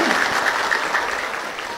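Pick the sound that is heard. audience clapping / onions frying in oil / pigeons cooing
audience clapping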